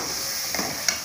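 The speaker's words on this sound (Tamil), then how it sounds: "நல்லா கலந்து விட்டுக்கோங்க." Tamarind curry being stirred in a frying pan, a steady sizzle with a couple of soft scraping stirs, close and alone.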